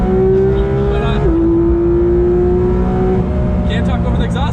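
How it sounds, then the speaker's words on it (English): Porsche 911 GT3 RS with its rear engine, driven on the road, exhaust roaring loud and steady with a rising and falling engine pitch as it accelerates and shifts, filling the whole stretch. "can't talk over the exhaust note, it's rude."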